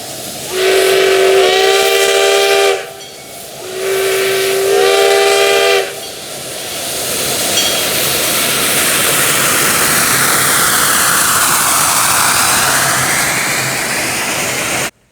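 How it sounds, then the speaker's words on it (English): Steam locomotive number 1 at a steam and power show, with two long, loud whistle blasts followed by a sustained, roaring rush of escaping steam as it departs nearby. "number 1 departs, with a huge roar and lots of steam"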